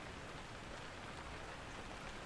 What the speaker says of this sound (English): The rain had picked up again. I could hear it pushing against the tall windows like it was trying to come in.